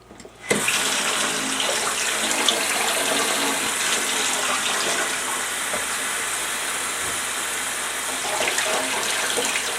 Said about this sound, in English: We're gonna wash this up.